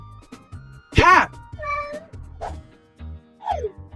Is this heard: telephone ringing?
no